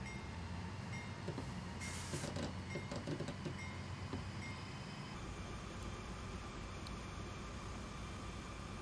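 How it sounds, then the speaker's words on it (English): Freight grain train running on rails in Train Sim World 2, a steady rumbling roll with faint rhythmic wheel clatter, a brief louder burst of noise partway through, continuous and fairly distant. "Run this grain train to Cumberland, Virginia Avenue, where another crew will take this service on"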